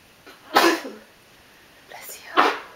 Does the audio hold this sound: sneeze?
yes